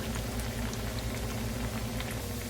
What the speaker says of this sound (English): I'm gonna drop it. Okay, let them deep fry.